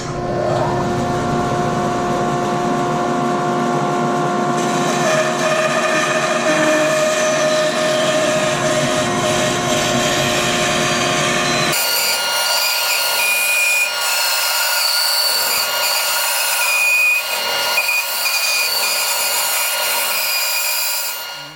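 Bandsaw cutting a 2x3 wood board: a loud, continuous motor whine and blade hum throughout, the tone shifting partway as the cut changes, alone without talk.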